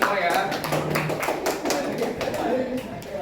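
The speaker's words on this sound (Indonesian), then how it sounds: "tepuk tangan untuk kita semua ya" Classroom audience of students clapping together, a dense patter of hand claps with voices mixed in throughout.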